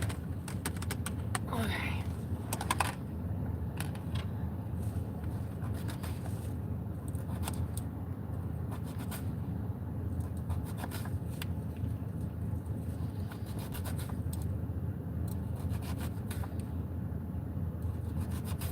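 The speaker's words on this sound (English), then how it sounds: "Cut a cucumber." A knife slices a cucumber into thin pieces for a salad, giving a run of soft, quick taps and scrapes on a cutting board, close by, with a person speaking briefly over it.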